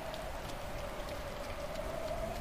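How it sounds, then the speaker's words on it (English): Heavy rain falling outdoors, a steady dense patter and hiss that runs unbroken at moderate, somewhat distant level, with a faint tonal hum underneath. "It is raining. Look at that rain."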